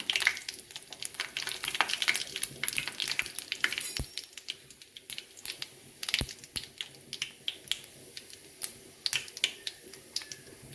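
Dried red chillies crackle in hot oil with fennel seeds for chicken gravy, a close run of sharp, irregular pops and sputters over a faint sizzle, with no talk.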